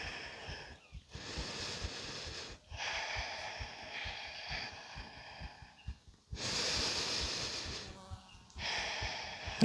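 Deep, audible breathing during an outdoor yoga practice in the Dragoon Mountains, long airy inhales and exhales close to the mic, several cycles with short gaps between.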